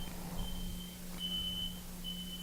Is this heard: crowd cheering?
no